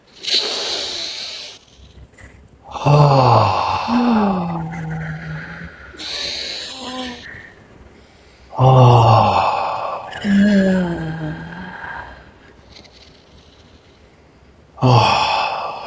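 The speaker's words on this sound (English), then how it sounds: "Take 3 deep breaths." Slow deep breaths during a tantra breathing practice, three long breathy inhales and exhales with hissing, sigh-like releases, fairly close and loud, with quieter pauses between them.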